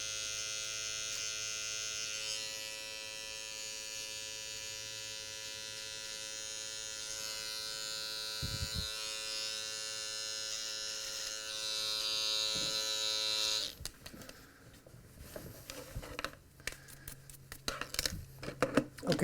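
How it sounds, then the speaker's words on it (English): Electric hair clipper trimming around the ear during a low fade haircut, a steady close buzz that drops away near the end into scattered handling noises. "take the back few teeth of the clipper, and grab any long ones so it looks natural"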